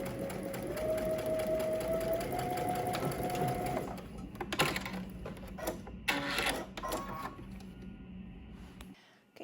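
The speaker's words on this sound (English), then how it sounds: "With right sides facing, you're going to go ahead and stitch along the bottom to close this out" Sewing machine stitches along the bottom of a pants fly piece in a fast, steady mechanical run, loud and close, then stops and gives way to a few clicks and handling noises.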